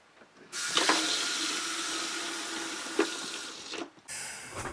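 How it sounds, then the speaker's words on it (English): Water runs steadily from a tap into an RV sink, a bright continuous hiss and splash that starts abruptly, holds for several seconds with a couple of small knocks, then briefly cuts out and resumes. "we now have water to the sink"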